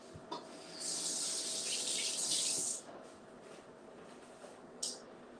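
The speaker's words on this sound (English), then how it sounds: "I'm gonna just wash my hands." Tap water runs into a kitchen sink for about two seconds as hands are washed, a bright rushing hiss that then stops, followed by quiet handling sounds and a short final splash.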